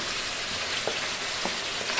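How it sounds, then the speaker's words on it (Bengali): A large onion and a pinch of cumin fry in white oil in a frying pan: a brief, even, close hiss of sizzling with a couple of soft stirring taps. "সাদা তেল দিয়ে সাথে 1 চিমটি জিরা আর একটা বড় সাইজের পেঁয়াজ ভালো করে ভেজে নিলাম"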